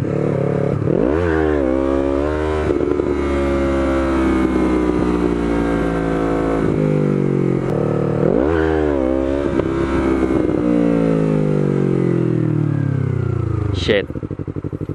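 A big motorcycle revs hard as its rear wheel spins and slips without grip, the engine rising and falling through repeated loud, close throttle blips with a pitch that climbs and sags, ending in an abrupt squeal.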